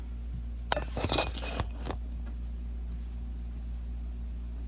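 Bisque-fired ceramic pieces — a large plate, a small plate, little jewelry pieces and spoons — clink and knock together as they are lifted out of a kiln, a brief cluster of bright glassy rattles over a steady low hum, then quiet.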